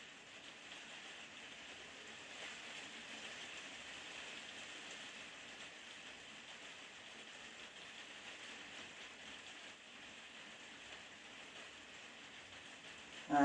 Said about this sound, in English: Oh, it started to rain.